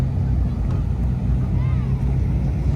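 A WaveRunner jet ski engine drones steadily on Lake Havasu, a low continuous motor hum with wind buffeting the microphone, heard close and constant.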